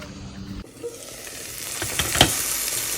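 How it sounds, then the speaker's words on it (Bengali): Bitter gourd and potatoes frying in oil with a steady, close sizzle that builds and brightens over a few seconds, broken by a couple of light stirring clicks. "তো এখানে আমি রান্না করছি উচ্ছে আলু ভাজা"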